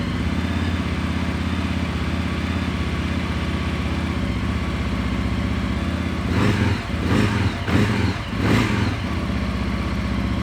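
A Benda Chinchilla 350 CVT Neo cruiser motorcycle idles with a steady, even engine rumble heard up close, with a few brief rattling bursts near the end.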